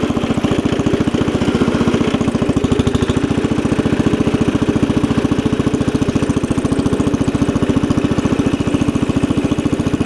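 A classic Cub Cadet 70 garden tractor engine runs steadily and loudly up close, a fast even chugging putter that holds the same pace throughout with no talking.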